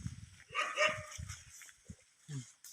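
Dog barking behind a Buddhist temple: several short, fairly faint barks in an irregular run, with quiet gaps between them.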